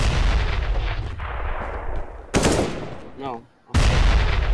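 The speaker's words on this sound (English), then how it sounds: "I'm going to grenade." A grenade blast in an online shooter game: loud broadband booming bursts, a sharp explosion mid-clip and another heavy blast at the end, with gunfire-like rumble throughout and no talk.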